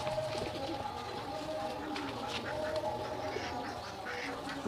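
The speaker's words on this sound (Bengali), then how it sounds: "এখানে আছে সব পায়রাগুলো, সব এখানে আছে, এখন সব খাবার খাচ্ছে" Pigeons feed together, their soft cooing and shuffling carrying on steadily at close range, with a few duck quacks mixed in.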